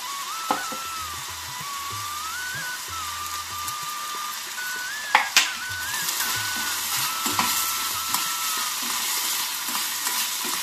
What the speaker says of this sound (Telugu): ఈ గోల్డ్ కలర్ చివరికి ఫ్రై చేసుకోవాలండి ఉల్లిపాయలు మగ్గిపోయాయండి.